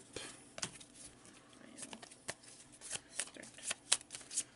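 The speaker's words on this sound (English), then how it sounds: "So we'll shuffle these up" A deck of Shadows of Brimstone Forbidden Fortress cards is shuffled by hand, producing repeated crisp riffling bursts and sharp snaps close up at a quiet level.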